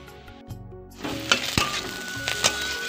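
Chopped vegetables for a rice dish hiss in hot oil on a gas stove. Quiet clinks come first, then the sizzle starts and keeps going, broken by a few sharp utensil taps while the food is stirred.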